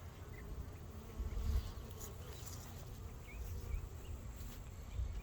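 Returning honeybee foragers fill the air around a hive on an October afternoon, a dense, continuous buzzing hum that sounds close and swells slightly at moments, with no one talking.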